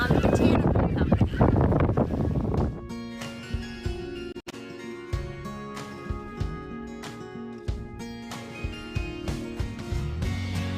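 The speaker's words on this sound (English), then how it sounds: "man is it beautiful weather, but a little windy" Wind gusts buffet the microphone at the East Tawas waterfront in Michigan, a rough rushing roar for under three seconds before music takes over for the rest of the stretch.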